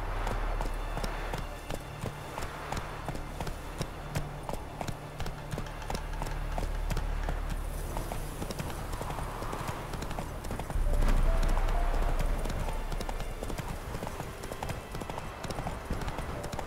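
Roach, the horse in The Witcher 3, gallops in a fast continuous drumming of hooves, close and prominent over wind-like ambience, the pace holding steady throughout.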